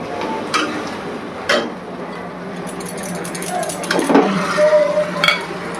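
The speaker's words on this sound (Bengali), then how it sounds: "ভালো করে এটা এখন কষাবো" Chicken for murgh do pyaza sautéed and stirred in a pan, a spoon clinking and scraping against the metal in irregular strokes over a steady low cooking hiss.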